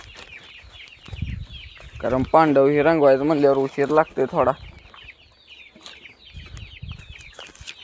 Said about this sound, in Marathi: कोंबड्या सोडतो पहिल्यांदा बाहेर